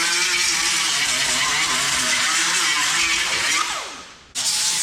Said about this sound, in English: So using an angle grinder, about, I think it's like 80 grit, trying to get the foam off.